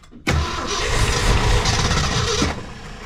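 A 1966 Ford Fairlane's 390 FE V8 with a four-speed, sitting unstarted for twenty years, cranks over loudly in a sudden churning burst that runs steadily for a couple of seconds and then cuts back, close and alone.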